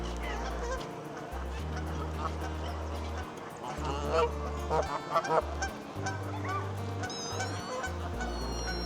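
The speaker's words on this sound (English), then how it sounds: "Getting cheeky, these geese now." Geese honking in a park, a run of loud, repeated nasal honks from several birds close by, some overlapping, with brief gaps between calls.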